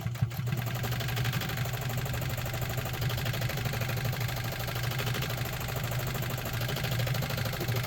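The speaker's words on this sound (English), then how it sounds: "You can see the stitch pattern selector moving the stitch width back and forth as it makes this pattern" A Pfaff 130 sewing machine stitching a zigzag-type pattern, running at a steady even hum with a fast regular mechanical ticking throughout, close and continuous with no talk.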